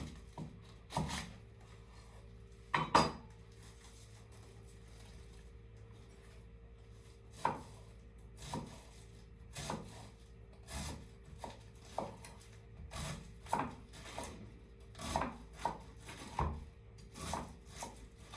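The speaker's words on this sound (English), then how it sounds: "So the last ingredient we have to cut is the cabbage." A knife chops cabbage on a board in irregular sharp thuds, sparse at first and then coming in quicker bursts, close and fairly quiet against a low steady hum.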